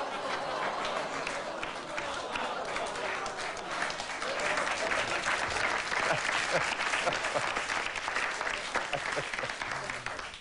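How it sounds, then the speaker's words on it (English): A talk-show studio audience lets out a rising murmur of oohs that swells into sustained, full applause, loud and continuous for about ten seconds. "oohing into applause"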